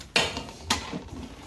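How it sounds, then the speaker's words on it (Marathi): A metal lid is set onto a chicken biryani pot, two sharp clanks about half a second apart followed by a few softer rattles, close and fairly quiet. "बस मग द्यायचं आपलं झाकण ठेवून याच्यावर"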